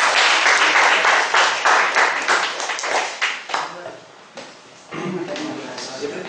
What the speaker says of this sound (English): Please welcome Mr. Yogesh with his round of applause.